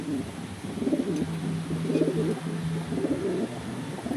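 Pigeon cooing repeatedly at close range, steady rhythmic calls over a low hum at a loft where racing pigeons are arriving during a derby race.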